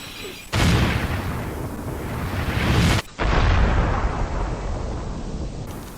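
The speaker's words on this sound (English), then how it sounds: "let's test a explosive arrow on a Jawabo" Loud in-game explosions from an explosive arrow in Resident Evil 6, two heavy booming blasts about three seconds apart, each rumbling and sustained, with no talk over them.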